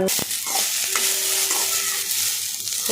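Okra stirred and fried in a village-style pan, the pieces sticking together: a steady loud sizzle with scraping spatula strokes throughout, close by and with no talking.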